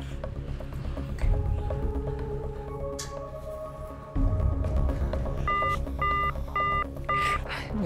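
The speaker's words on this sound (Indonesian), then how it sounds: "Aku coba telepon Kamesha" A phone call is dialed: a series of short keypad tones beeps in quick succession over low background noise and music, followed by a few repeated ringback-style tones near the end.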